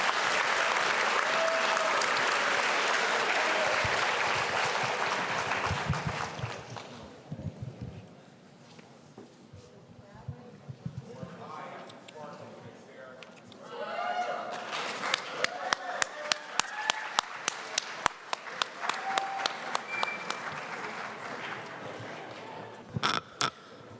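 Audience applause for ninth graders at an awards ceremony swells loudly, fades into quieter murmuring, then returns as scattered sharper claps and renewed clapping, with voices mixed in.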